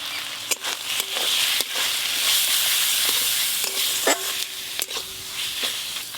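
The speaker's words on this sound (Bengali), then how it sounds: "এবার টমেটো কুচি দিয়ে দেব।" Chopped tomato fries with ginger, garlic, onion, salt, turmeric and chili powder in a pan, a constant close sizzle broken by sharp clicks and scrapes of stirring.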